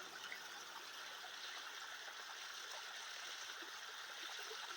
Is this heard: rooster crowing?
no